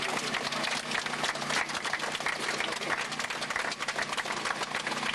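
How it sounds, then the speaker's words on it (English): Dense, steady applause from a crowd fills an outdoor Fourth of July rally, a continuous loud wash of many hands clapping with no pauses. "Reverend Sharpton, you need to give yourselves a round of applause"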